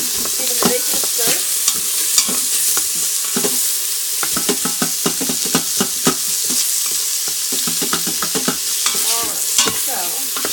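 Bacon sizzles and crackles steadily in an Instant Pot for a fish chowder while a utensil stirs it, with frequent sharp scraping clicks and pops up close, no voices.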